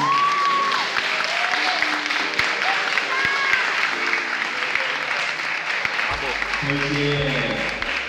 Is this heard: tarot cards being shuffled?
no